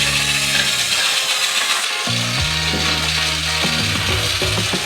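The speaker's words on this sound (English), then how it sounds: "And mix it all with a construction mixer." A loud, continuous mechanical grinding with ratcheting, shifting motor tones churns throughout as a construction mixer stirs milk and 12 kilograms of sugar.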